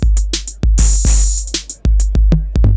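Classic acoustic-style drum kit sounds from a Roland FA-08 workstation, played as a short groove of loud, close kick and snare hits with a crash cymbal wash, without talk.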